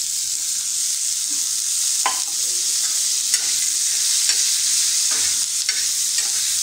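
Onion sautéing in oil in a pan gives a bright, steady hiss. A few soft scrapes and knocks of stirring cut in every second or so, close and fairly loud, with no speech.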